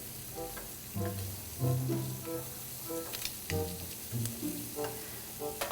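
Little shrimp sizzle steadily in a hot frying pan as they are flipped, with the frying hiss swelling and easing around a few close stirring and turning sounds.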